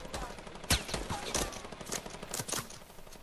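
Rapid video-game gunfire crackles in scattered bursts from a tower, with one sharp nearby shot standing out over a busy, moderately quiet background.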